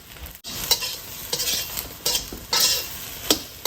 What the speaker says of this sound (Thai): พอน้ำเริ่มแห้งแล้วเราก็คั่วเขาต่ออีกหน่อยนึง